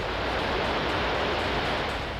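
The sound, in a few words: water rushing out of Kadana dam gates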